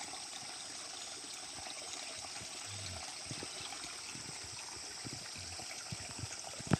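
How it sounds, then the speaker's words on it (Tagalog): A small creek flows steadily with a soft, constant wash of trickling water and faint bubbling, heard close but quiet with no voices. "Nindot ko ng sapa oh."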